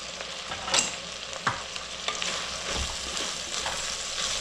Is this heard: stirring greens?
yes